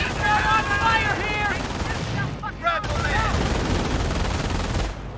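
Rapid machine-gun and rifle fire crackles through a World War II battle for Hill 192 in Normandy in Company of Heroes, sustained bursts running throughout while soldiers shout over the din.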